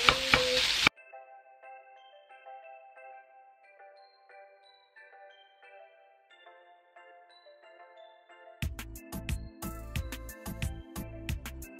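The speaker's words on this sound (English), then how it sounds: "Rice has been added. I'm just gonna break it up a bit." Rice being stirred and broken up in a hot pan while cooking stuffed peppers: a brief sizzling burst, then soft melodic tones, followed by loud, close, rhythmic scraping and stirring knocks against the pan.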